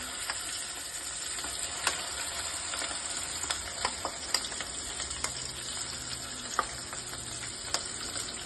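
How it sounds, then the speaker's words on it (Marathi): Masala paste of ground ginger, garlic and chili frying in hot oil for a Maharashtrian misal, a steady close sizzle with scattered crackles and pops throughout, no voices. "आता आपण ह्याच्यात वाटण टाकून घेऊया।"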